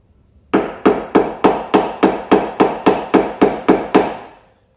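A hammer taps down a dented ridge on the body panel of a 2010 Acura TL during deer strike repair, twelve sharp, evenly spaced metallic knocks in quick succession, close and loud, then quiet.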